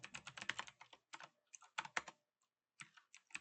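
Quick runs of keystrokes on a computer keyboard, close and crisp, in short bursts separated by brief pauses, with no voice over them.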